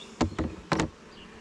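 Honeybees buzzing at a hive in a swarm box, heard as a few short close bursts of buzzing passing near, with quiet between them.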